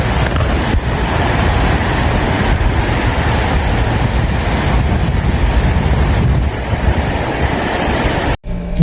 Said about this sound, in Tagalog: Super nakaka-relax pakinggan yung alon